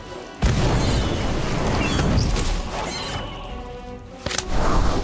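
Incendio fire spell in Harry Potter: Magic Awakened, a sudden loud whooshing blast that sustains as a roaring burst of flame, eases off, then ends with a sharp crack and a short second burst.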